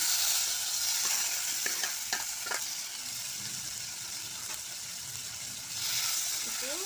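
Tomatoes sizzle and sauté in a pan for tomato chutney, with a soft steady frying hiss broken by several scraping stirs of a spoon, fairly quiet and close.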